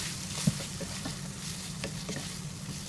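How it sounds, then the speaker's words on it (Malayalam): Chopped onions sautéing with salt for a Kerala green chicken curry, a continuous soft sizzle with light stirring scrapes, steady and fairly close, with no talking. "ഇനി ഈ സവാളയെ നന്നായി വഴറ്റിയെടുക്കണം ഈ സവാള സോഫ്റ്റ് ആയി വരണം"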